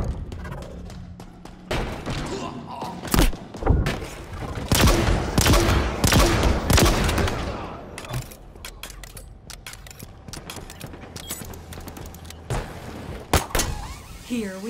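Gunfire and bursts of weapon fire in an online Halo Infinite match on Xbox Series S, with several loud, sharp shots clustered early and scattered bursts later amid game effects and talk.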